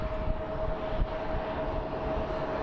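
A Southwest airliner at Phoenix Sky Harbor airport gives off a steady, broad jet roar that stays continuous and moderately loud throughout, with a faint whine running through it.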